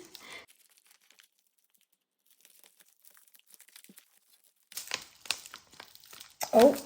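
A package of vintage paper ephemera is torn open: soft crinkles, then louder bursts of paper crumpling and ripping near the end, close up, after a quiet stretch with faint rustles.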